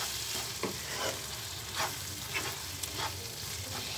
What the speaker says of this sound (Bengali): দিয়ে এবার ভালো করে মিশিয়ে নিব। মগজটা কিন্তু একটু ভাজা ভাজা হবে।